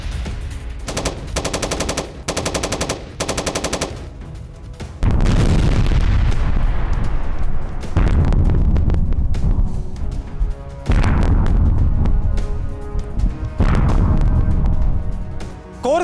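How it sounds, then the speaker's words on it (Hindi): Heavy wartime bombardment from a Ukrainian assault on Russian troops in the Kursk region, with rapid machine-gun bursts giving way to loud, booming artillery blasts and rolling explosions that echo and decay, one after another, with no voices. "रूसी टुकड़ी पर यूक्रेन की भीषण बमबारी।"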